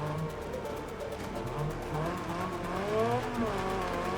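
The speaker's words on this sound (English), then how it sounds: "based off the sound of his engine behind me" Race car engine roaring steadily in the Wreckfest 2 racing game, with rising and falling revs and intermittent tire squeal through corners, continuous and fairly loud with no talk over it.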